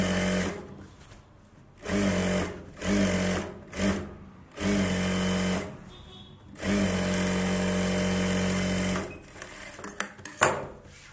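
A sewing machine stitches a seam on a Bharatanatyam dance dress in repeated short bursts, followed by one long steady run, close and fairly loud, with brief handling clatter at the end.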